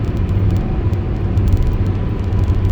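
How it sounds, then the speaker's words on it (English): Steady road rumble inside a moving car behind a gravel truck, with scattered sharp ticks and pings of small stones striking the body and glass. "You can hear that gravel, and it can break your windshield"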